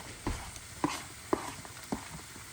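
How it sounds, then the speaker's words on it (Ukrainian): Onion added to meat for plov, stirred in a pan with a soft sizzle underneath and four distinct scraping stir strokes at a steady rhythm, close and alone. "І починаємо смажити пару хвилин, щоб цибуля була м'ягенька."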